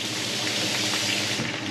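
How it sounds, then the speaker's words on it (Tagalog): A little water poured into a pan of bistek, a brief steady trickle and splash close by. "Lagyan natin ng konting tubig."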